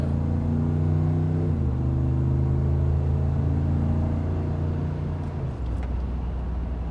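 A 2016 Ram 2500 truck with an aftermarket muffler on the factory resonator and tailpipe gives a deep, steady exhaust rumble at light throttle. Its pitch drops a couple of times as it cruises, close and loud, with no voices.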